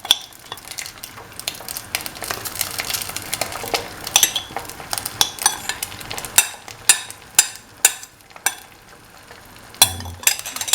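Omelette mixture fries in an oiled pan with a soft sizzle beneath repeated sharp clinks and scrapes of a utensil spreading it against the metal, the knocks growing more spaced out toward the end.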